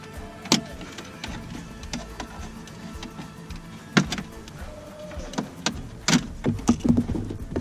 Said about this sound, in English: I'm going to use a plastic pry tool. Work it under there. Pry the little clips out.